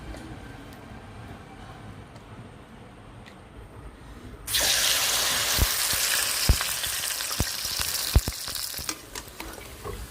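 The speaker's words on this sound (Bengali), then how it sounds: "আমি একইভাবে সব চপগুলো ভেজে নেব" Helencha greens chops deep-frying in oil, a steady loud sizzle that jumps up sharply partway through as more oil bubbles, with scattered pops and clicks over a quieter hiss at the start.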